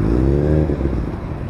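A motorcycle engine drones steadily as the bike engages and starts to roll off, the low engine note shifting briefly before settling, close to the microphone.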